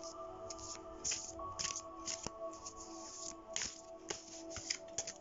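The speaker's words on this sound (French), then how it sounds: "Je vais prendre pour chacun 3 cartes dans ce jeu que je vais mélanger." A deck of oracle cards shuffled by hand, close and soft, with repeated quick riffling snaps and flutters over a faint background hum.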